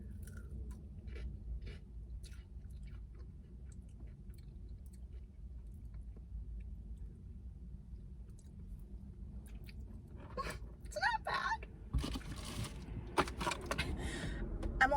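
Someone chews a bite of Dave's hot chicken with reaper spice, close and steady, with soft wet mastication and occasional crunchy bites growing louder toward the end over a low background hum.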